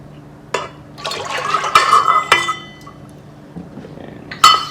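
Unsweetened vanilla almond milk poured into a measuring cup in a kitchen, heard as a few bursts of close splashing and gurgling liquid with quiet gaps between, no voices.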